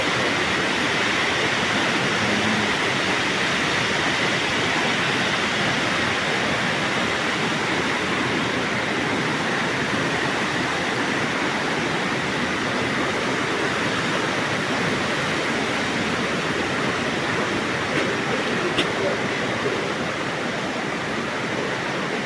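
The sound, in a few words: Chernigovka waterfalls and river in Abkhazia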